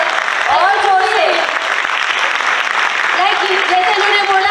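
Enthusiastic audience applause for a team at a motivational talk, loud dense clapping throughout, with whoops and shouted voices rising over it at several points.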